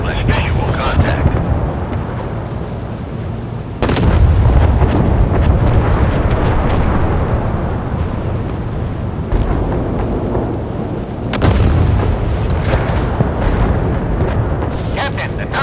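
Heavy naval guns aboard the Russian cruiser Pyotr Velikiy fire in the warship game Force of Warships, with deep booming blasts at about 4 and 11 seconds over a constant loud engine and sea rumble.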